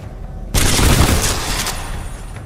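Gunfire in the first-person shooter Titanfall 2 bursts in suddenly after a quiet half-second, a dense rattling volley of shots that stays loud and thick before easing slightly toward the end.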